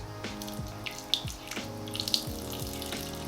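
Water poured into a tarantula enclosure over moss, a running trickle and splashing with a few bright drips, close and clear with no talking.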